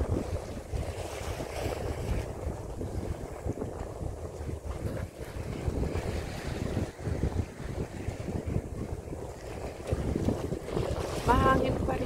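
Wind blows steadily across a boat on open water, a broad continuous rush mixed with waves lapping against the hull, on a cold and sunny day, sustained and fairly even throughout.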